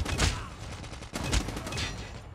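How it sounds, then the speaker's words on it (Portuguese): The HVK-30 assault rifle in Call of Duty: Mobile firing rapidly, with fast bursts of close, loud gunshots in two clusters, and no talk over them. "essa arma aqui, ela atira bem rápido"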